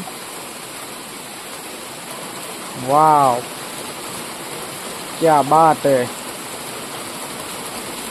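Heavy monsoon rain pours down in a steady, dense hiss that fills the whole clip, while a nearby voice breaks in briefly with two short exclamations.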